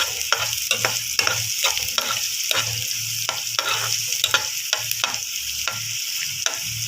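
Onions frying in a pan toward golden brown give a constant close sizzle, punctuated by rhythmic spatula strokes scraping and tapping the pan every half second or so.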